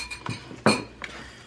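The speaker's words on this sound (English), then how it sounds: "we got 2 eggs that we're going to scramble and put in here to combine this" Two eggs are scrambled in a bowl before being mixed into homemade cornbread turkey dressing, with a few quick utensil clinks and taps against the dish, near and brief, with no talking.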